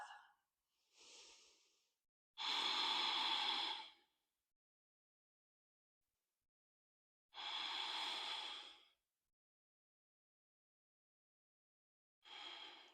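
Slow, deep breaths during a Half Moon yoga flow: several long, airy inhales and exhales, close and clear, separated by stretches of silence.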